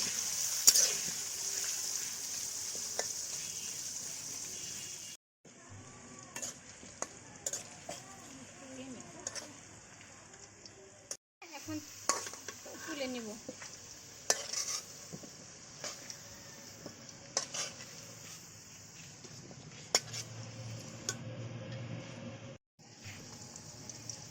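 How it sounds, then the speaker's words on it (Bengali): Potatoes with salt and turmeric frying in a pan, a continuous bright sizzle with frequent scraping and clinking of stirring, close and steady, broken by a few brief silent gaps, with some talking at times. "এখন আলুটা ভালো করে লাল লাল করে ভেজে নেব"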